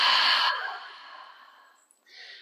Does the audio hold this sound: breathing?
yes